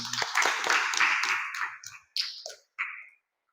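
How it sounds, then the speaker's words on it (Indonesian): A classroom of students claps hands together in a quick burst of applause that fades out, followed by two brief scattered claps close by. "Oke, tepuk tangan."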